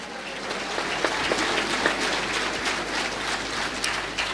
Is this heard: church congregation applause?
yes